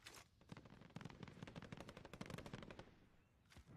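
Rapid bursts of video game gunfire with sniper shots from an enemy team, dense repeated cracks through most of the stretch, then a short pause and one more sharp shot near the end.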